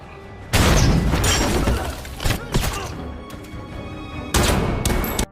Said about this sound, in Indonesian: terjadilah aksi tembakan